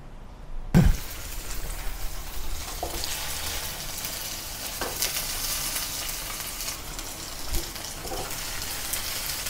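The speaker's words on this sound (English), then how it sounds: "coat the tofu pieces with corn flour, then pan fry with a non-stick pan" Tofu pieces coated in corn flour pan-fry in a non-stick pan, giving a steady, close sizzle throughout, with a sharp clatter at the start and a few soft knocks and spatters along the way.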